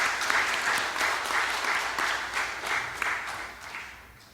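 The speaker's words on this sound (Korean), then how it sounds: "격려의 박수 한번 해주시죠" A church congregation claps together during a Sunday worship service, a dense, even burst of applause from a large indoor crowd that fades toward the end.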